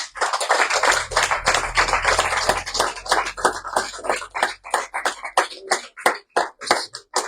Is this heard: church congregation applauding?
yes